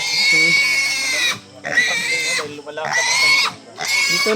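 A pig squeals loudly and close by in repeated long, shrill bursts separated by short pauses, out in a rural farm setting.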